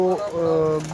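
Show-quality pigeons coo close by, a low throaty warble that rises and falls in a single phrase, with a voice faintly mixed in.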